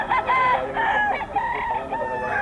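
A bullstag gamecock crows close by, one full drawn-out crow lasting about two seconds, loud and clear with no talk over it.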